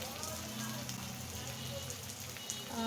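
Food fries with turmeric in a pan, a soft, continuous crackle and sizzle close by with scattered small pops, fairly quiet throughout.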